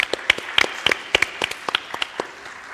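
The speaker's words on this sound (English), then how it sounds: "A warm round of applause for our speakers." Applause from a conference audience for speakers at a municipal theatre, heard as sparse, separate claps rather than a dense roar, fairly close and with no talk over it.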